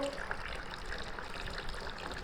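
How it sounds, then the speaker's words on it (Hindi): Water is poured in a steady stream into a container of water, making a continuous bubbling, splashing rush that stays at an even level for the whole two seconds. "हम तो इसमें डाल रहे हैं पानी।"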